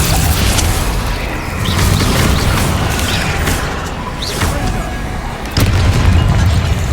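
Hogwarts Legacy Bombarda spell explosions give a loud, dense rumbling burst with a renewed boom near the end, over noisy game combat effects.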